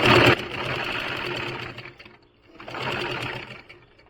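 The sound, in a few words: sewing machine stitching fabric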